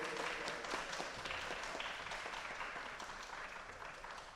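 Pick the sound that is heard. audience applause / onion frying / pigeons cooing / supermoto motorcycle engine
audience applause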